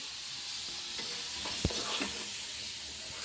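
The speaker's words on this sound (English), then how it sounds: "you can just directly put in the oil and just fry, deep fry" Potato french fries deep frying in hot oil, a dense continuous sizzle and crackle close by with a single brief clink partway through, no voices.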